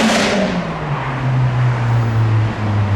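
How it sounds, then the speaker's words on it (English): A modified Honda Integra downshifts on the road near a roundabout as it leaves a Japanese car meet, its close, loud engine note sliding steadily down in pitch over a few seconds. "Oh, the Integra. That was making all the noise then."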